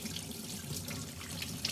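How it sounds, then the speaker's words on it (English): Water runs from a tap into a sink during handwashing, a steady close splashing hiss with faint drips and no talking. "I better wash my hands."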